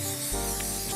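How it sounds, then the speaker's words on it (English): Cooking spray hisses briefly onto a small piece of foil on a tray, a single short close burst. "I'm going to spray that real well"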